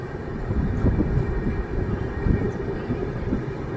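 A train leaving Jhargram station rumbles steadily as it gathers speed, a continuous low mechanical roar with irregular rattling knocks, heard from on board.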